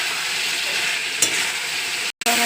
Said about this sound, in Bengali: আলুটা একটু কষিয়ে নেব, তারপরে পটলটা দেবো